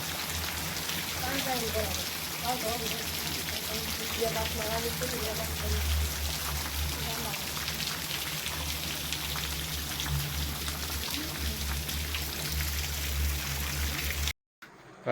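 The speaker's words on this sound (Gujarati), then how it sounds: "અત્યારે વરસાદ ચાલુ થઈ ગયો છે" Steady rain falls and patters on surfaces all around, a dense continuous hiss that lasts until a sudden cutoff at the end.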